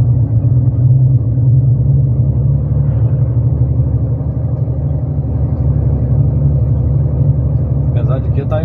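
A heavy truck rolls along the BR 116 highway in Ceará, heard as a steady, loud low rumble of engine and road noise throughout, with faint higher rattles near the end.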